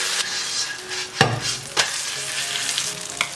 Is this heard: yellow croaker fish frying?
yes